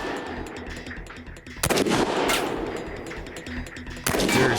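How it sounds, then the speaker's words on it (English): Gunfire aimed at the gas tank of a Cadillac, loud sharp shots in bursts, with heavy cracks around 1.7 s and again near 4 s over a steady rumbling background. "Jamie will have to shoot the Cadillac's gas tank."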